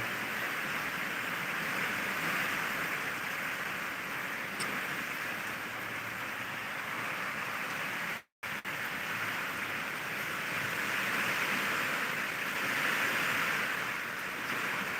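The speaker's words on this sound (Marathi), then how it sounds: "संभाजीनगरला पाऊस चालू आहे मित्रांनो बघा खूपच वारं सुद्धा सुटलेला आहे वारा आणि पाऊस सोबतच आहे" Heavy rain driven by strong wind in Sambhajinagar, a steady loud broadband rush that holds throughout, broken by one brief dropout near the middle, with no talking.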